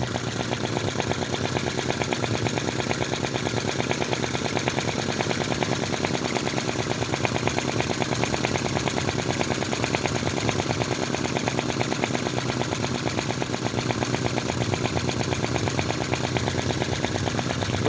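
Model V-twin engines run continuously on the bench, a steady rapid buzzing and hammering that holds an even, close and loud pitch throughout with no talk.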